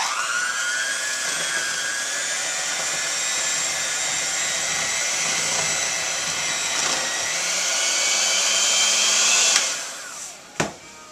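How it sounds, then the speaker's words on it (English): An electric hand mixer beats thin protein cake batter in a home kitchen, a steady high whir running loud and close for about nine seconds before cutting off with a couple of brief clunks. "Mix well. I have my mixer here."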